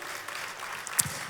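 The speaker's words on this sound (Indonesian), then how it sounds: "kita kasih tepuk tangan saudaraku." A church congregation applauds during a year-end service, a soft, diffuse patter of clapping in a reverberant hall, with a brief louder thump near the end.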